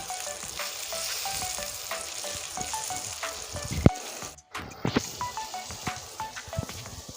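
Oil sizzles and crackles steadily as eggplant slices fry in a pan, with occasional scraping stirs and a brief pause midway.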